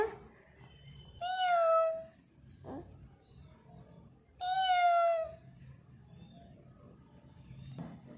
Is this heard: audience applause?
no